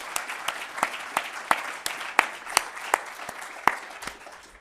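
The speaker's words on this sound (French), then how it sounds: "Donc merci de les applaudir tous ensemble" An audience claps for event organisers at a French-speaking gathering, a steady patter of many hands at moderate distance, with sharper individual claps standing out, with no voices over it.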